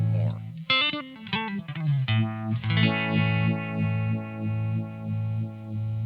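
Electric guitar through a VFE Junior phaser pedal with the mix turned up, a few picked notes then a ringing chord whose tone sweeps slowly and rhythmically, close and fairly loud with no talk.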